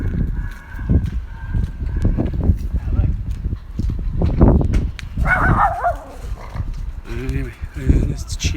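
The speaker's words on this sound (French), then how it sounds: "Oui, un petit chien insignifiant." A small dog barks in short, repeated yaps at close range, mixed with other animal and footstep sounds, while people talk in French around it.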